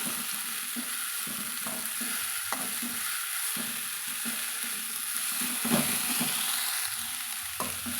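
Mudakathan keerai greens are stir-fried in a pan, giving a constant close sizzle overlaid with repeated scraping and stirring strokes at an uneven rhythm, with no voices.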